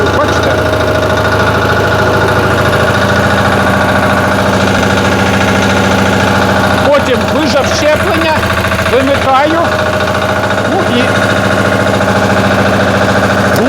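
A Motor Sich walk-behind tractor with a tiller attachment runs steadily, its engine chugging loudly at a constant idle-like pace, with a brief gear shift and clunking partway through; someone talks over it.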